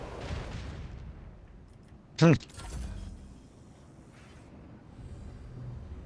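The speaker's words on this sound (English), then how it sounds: "Cannons roar." Macro cannons firing in the space combat of the video game Rogue Trader: one sharp, booming shot cuts through a low rumbling background, followed by quieter mechanical thuds, with a voice speaking near the start.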